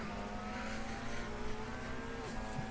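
Race cars accelerating off the line as the start lights go out, a sustained engine drone climbing in pitch with a gear change near the end, heard from inside the car.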